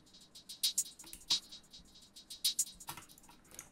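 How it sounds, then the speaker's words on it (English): Crisp hi-hat hits in an uneven pattern, some accented and loud, others soft ghost notes, with light percussion ticks between them. "Something you need to do is playing with the velocity of your hi-hats"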